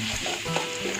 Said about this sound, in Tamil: ஸோ முள்ளாங்கியும் நல்லா பச்சை வாசனை போகிற வரையும் ஃப்ரை பண்ணிக்கலாம்.